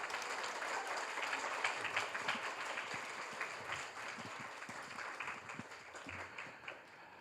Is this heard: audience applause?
yes